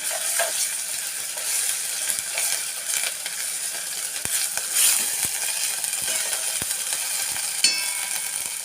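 Onions, green chillies and ginger-garlic paste sizzle steadily in a hot pan, a loud continuous fry with occasional clicks of a spoon stirring.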